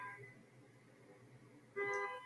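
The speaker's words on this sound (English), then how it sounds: "They're backing up and honking and keeping residents up at night." A Waymo self-driving car honking its horn at night on San Francisco streets, two short horn blasts, the second louder and closer, over a low rumble of background noise.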